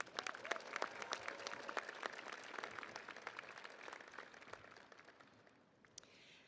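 A graduate commencement audience at the University at Albany applauds in a sustained round of clapping, dense and steady, thinning and fading toward the end.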